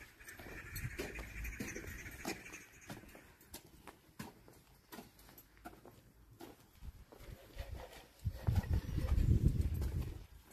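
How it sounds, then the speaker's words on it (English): Horses in a stable in Nairobi, Kenya, shifting and stepping with scattered hoof clops and thumps, a louder burst of movement near the end, with faint voices in the background. "How many horses do you keep in here?"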